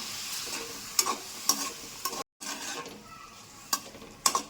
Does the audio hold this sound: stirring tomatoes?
yes